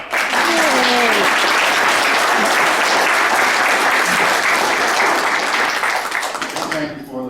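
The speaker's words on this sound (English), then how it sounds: "And I think we should give you a round of applause." An audience at a respect and remembrance tea at the Aurora Legion claps steadily and loudly throughout, a dense sustained applause that tapers slightly at the end.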